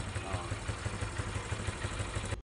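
A restored Honda CB 125 motorcycle engine runs close by with a steady, rapid low thumping pulse for about two and a half seconds, ending abruptly.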